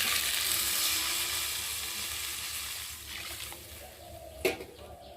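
Fish curry masala sizzles in a pan as it is stirred, a steady hiss that gradually fades, followed near the end by a short sharp scrape or clatter of a spatula.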